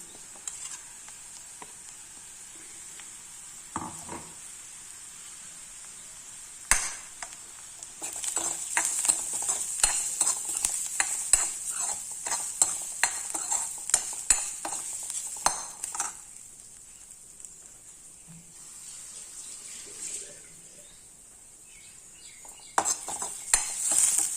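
Ground masala frying with plantain in a pan sizzles softly while a spoon stirs and scrapes, giving irregular clinks and scrapes over a steady hiss, fairly quiet and close.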